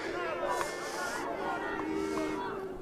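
A crowd at a night protest march over provincial elections murmurs and chatters in a steady, moderately loud hubbub, with voices overlapping near and far.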